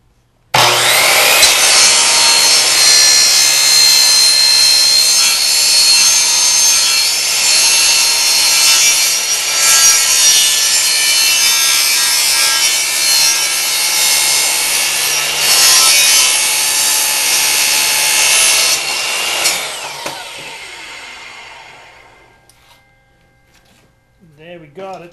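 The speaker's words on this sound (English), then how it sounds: "I need to cut a piece of PVC pipe 5 inches long, which I will do over here" A hand saw cuts through a length of PVC pipe in steady, continuous back-and-forth strokes, loud and close, for about twenty seconds before the cutting stops.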